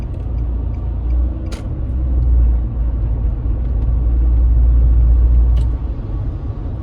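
Cars creep through slow traffic, a continuous low road rumble with engine drone swelling and easing, plus two brief sharp hisses, and nobody speaking.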